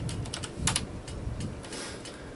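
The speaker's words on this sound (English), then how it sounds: "if you just start typing on the keyboard, this little thing should pop up, and I'm going to type in ask about town" A short burst of typing on a computer keyboard enters a command in the game Hero's Quest. The clicks are quick and irregular and close, with no voices.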